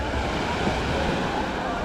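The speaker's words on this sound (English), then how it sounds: "7 Mile Beach in the Cayman Islands" Ocean surf at Seven Mile Beach in Grand Cayman, a steady close wash of waves mixed with wind buffeting the microphone, continuous and fairly loud throughout the short stretch.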